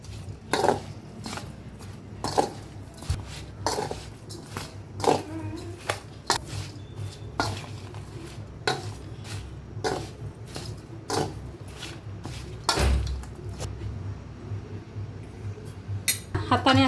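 Mango pickle mixed with jaggery in a metal bowl, giving a run of repeated clinks and scrapes at a fairly even rhythm, close and moderately loud.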